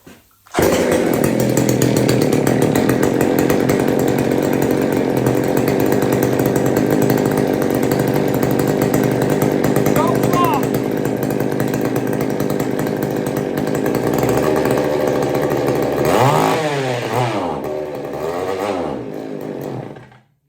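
A Homelite 150 automatic chainsaw runs loud and steady close by for about twenty seconds, its engine droning evenly before the revs waver and sag near the end as it struggles to keep running.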